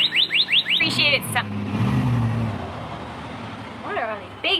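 Large, noisy cars and trucks roll past on a road nearby with a broad, swelling engine rumble. Sharp chirps or squeaks come and go at the start and end.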